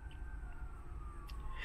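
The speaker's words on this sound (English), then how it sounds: "Even though the sirens are going off and the birds are flying in the sky and the cars are driving" Outdoors at sunset, a faint distant siren wails in a slow falling sweep over a low steady rumble of traffic.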